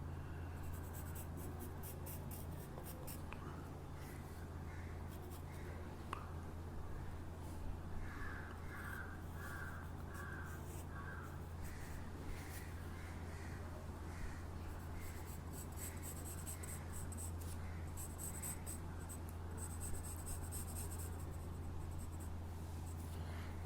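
Hand drawing of Mega Charizard Y's wings: faint, close pencil strokes scratching across paper in short repeated bursts over a low steady hum.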